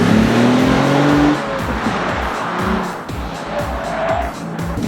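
A 2012 Lexus is pushed hard around a race track: the engine revs loudly, then is cut by the limiter, while the tires squeal and hiss under load throughout.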